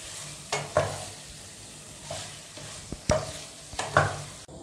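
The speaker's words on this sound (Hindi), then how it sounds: "अब वो चिकन इसमें ऐड करके इसे अच्छे से मिक्स करेंगे" Chicken is stirred into a biryani pot with a soft sizzle underneath. A few distinct scraping strokes and clanks of the utensil against the pot land irregularly, fairly close, with no speech.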